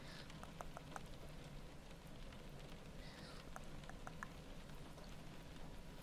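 Steady rain patters in an indoor rainy-room setting, a faint, even hiss with scattered droplet ticks and no voice heard.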